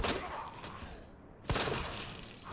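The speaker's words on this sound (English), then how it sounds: "That's that little pumpkin explosion." Explosion in the Resident Evil 2 video game, a sudden sharp blast halfway through followed by a noisy crackling tail over ongoing game noise.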